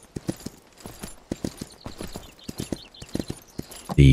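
Horse hooves clip-clop in a steady galloping rhythm in Myth of Empires, a medieval survival video game, close and fairly loud, ending in a louder burst of noise.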